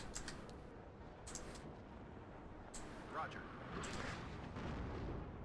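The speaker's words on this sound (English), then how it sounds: "Artillery here. My counter battery is going off, and I'm cranking ammunition into it." Counter-battery artillery fire in the WARNO war game, a series of low rumbling booms with several sharp bursts spaced across the clip, fairly faint, with some background game noise.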